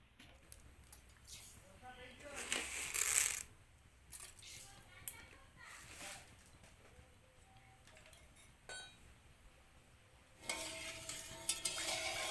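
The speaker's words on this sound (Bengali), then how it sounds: "দুধটাকে কিছুক্ষণ নেড়ে জাল করে নেব" Milk sweetened with sugar heating in a pan while being stirred, soft scraping and occasional clinks of a spoon against the pan, quiet and close, with some faint background noise between strokes.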